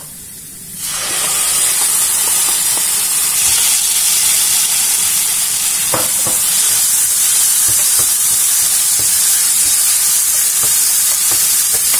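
Mushrooms hit a hot frying pan with garlic already in it and sauté with a loud, steady sizzling hiss that swells after a quiet start and holds for the rest of the stretch, with faint clicks of stirring.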